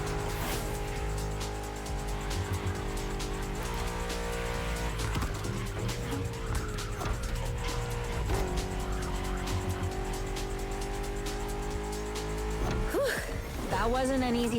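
A BMW M5 F90 CS in The Crew Motorfest roars through a race, its engine note climbing and dropping through gear changes with bursts of tire squeal near the end. A voice talks over the engine throughout.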